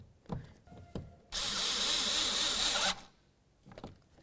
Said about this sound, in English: now we can grab both of our Phillips head screws and put them in